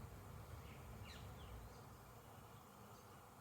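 A steady, dense hum of many honey bees buzzing together at an open flow hive, continuous and even throughout, with no voices.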